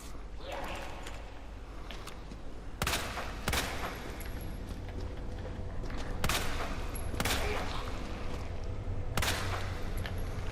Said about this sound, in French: Vous gaspillez beaucoup de balles en essayant de...